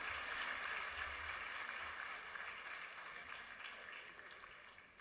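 An auditorium audience at a national student parliament applauds to welcome a session moderator onto the stage, faint, steady clapping that slowly fades.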